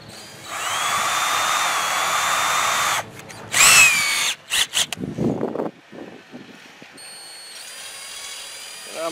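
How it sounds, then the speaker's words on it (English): A power drill whirs steadily for a few seconds drilling a pilot hole in wood for a garden gate, stops, then a shorter burst and clattering handling noises follow, close and loud. "I'm going to drill this pilot hole kind of not straight in, but kind of at a slight angle."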